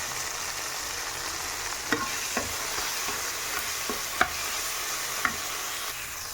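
Fish frying with turmeric and being stirred in a pan, a continuous close sizzle broken by scattered sharp clicks and scrapes of the spoon, no talking.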